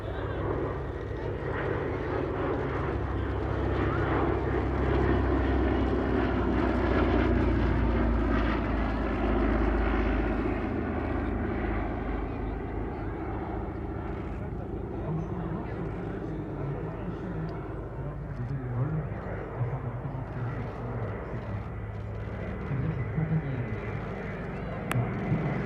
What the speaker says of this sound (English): And now several passes by the DC-3